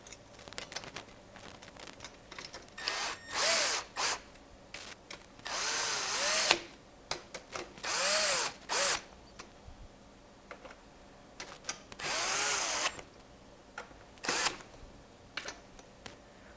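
Power tool driving hex stainless steel bolts into a billet rack on a Honda Grom, several short whirring bursts of varying length with pauses and small clicks between them, close and fairly loud.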